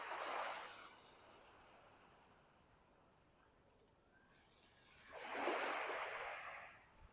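Calm sea waves on a resort beach in Negril, Jamaica: two soft washes of surf rise and recede with a steady low rush of water and wind between them, moderately distant, no talking.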